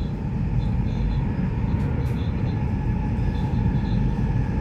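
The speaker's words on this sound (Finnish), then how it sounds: "Dear passengers, this is the night train via Kuopalahti to Helsinki." A night train to Helsinki runs steadily, with a constant deep rumble and hiss of wheels on rail filling the whole stretch, loud and unbroken.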